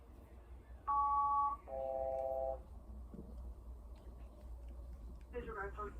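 Telephone keypad dialing tones, a few distinct electronic beeps of different pitch pressed one after another, fairly loud over a quiet room hum, with a brief clatter near the end.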